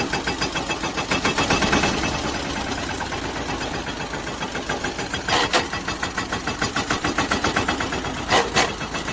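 A tractor engine chugs in a field, a steady rhythmic idle with regular pulses and two brief louder rattling bursts, close and loud with no speech.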